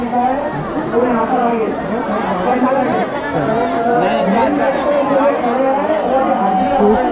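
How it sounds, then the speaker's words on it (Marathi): A dense crowd of pilgrims at the Sailani Baba fair in Buldhana, Maharashtra, a steady roar of overlapping voices and chatter all around, close and loud without pause. "खूप गर्दी आहे खरं तर."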